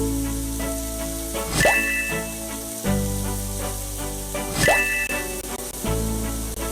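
Steady hissing rain patter in a video game, with a layered synthetic backdrop and occasional swooshing accents, continuous and fairly loud throughout.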